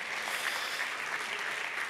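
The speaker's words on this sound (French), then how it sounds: "On peut, je crois, vraiment applaudir son intervention." A round-table conference audience gives brief, even applause, a soft wash of many hands clapping at a moderate distance.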